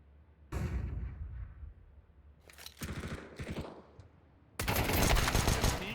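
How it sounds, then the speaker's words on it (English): Guns fire in a Counter-Strike match during an ESEA playoff, heard as several loud, sharp bursts of rapid shots separated by brief gaps. "Whoa, Kiwi, what a headshot on against Fug the Mug."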